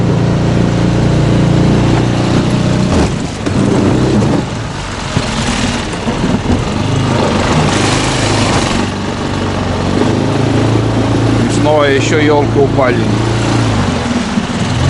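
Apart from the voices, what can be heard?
motorboat outboard engine running on taiga river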